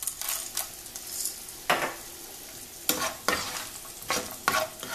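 Cashews and raisins fry in ghee, a soft sizzle under repeated scraping strokes of a spoon against the pan, five or six rhythmic stirs close up, with no talking.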